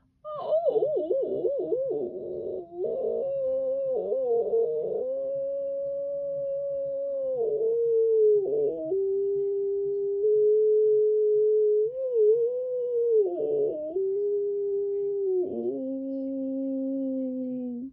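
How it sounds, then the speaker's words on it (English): A dog lets out a long, drawn-out howl that wavers and dips in pitch, sustained for many seconds, loud and alone. "out poured a long, aching howl"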